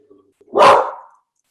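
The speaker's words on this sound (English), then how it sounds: "With apologies here for the dog." A dog gives one sharp, close bark, a single loud burst in near silence, with a faint voice trace just before it.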